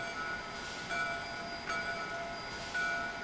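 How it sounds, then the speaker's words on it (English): A locomotive bell in a train video game rings in a steady, evenly spaced pattern, thin and fairly quiet, with nothing else alongside it. "Here's the bell."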